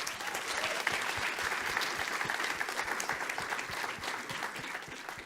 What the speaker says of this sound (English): So please give a warm round of applause to the panel.